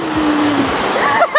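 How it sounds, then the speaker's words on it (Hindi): Loud, constant rushing and splashing water at the cold Bal Ganga waterfall where pilgrims bathe, a dense close-up roar with faint voices and excited shouts mixed in. "तो ये रहा हमारा वाटरफॉल जहाँ पर हम बाल गंगा स्नान कर यहाँ से आगे बढ़ेंगे"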